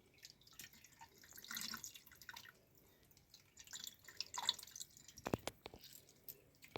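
Soaked tamarind squeezed by hand for Andhra-style raw tamarind soup, with faint scattered drips of water and soft wet squishing, quiet and close, without speech.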